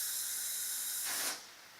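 A short burst of bug spray hisses steadily from an aerosol can, loud and close, then cuts off abruptly with a faint tail.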